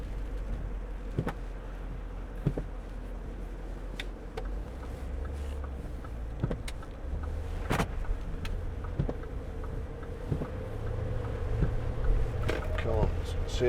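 A 2011 Range Rover Vogue SE with a 4.4 TDV8 diesel is driven along, its low engine and road rumble steady throughout, broken by occasional interior clicks and knocks while someone talks over it.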